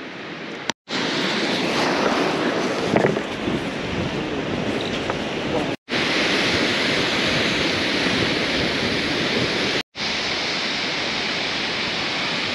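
Steady roar of a mountain river and waterfall where the Namchu and Namjangchu streams meet along the India–China border in Zemithang, Arunachal Pradesh; broadband rushing water fills the scene continuously, broken by a couple of brief cuts to silence.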